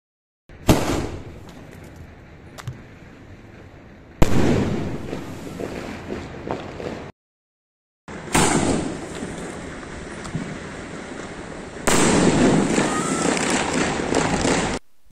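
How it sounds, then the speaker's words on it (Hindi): A Standard Pyros Green Forest 3-inch sky shot firework is set off outdoors: loud sharp bursts, then a long dense roar of crackling and booms across several cut segments, with a brief silent gap midway. "आज हम देखने वाले हैं स्टैंडर्ड पायरोस का 3 इंच का स्काई शॉट, जिसका नाम है ग्रीन फॉरेस्ट"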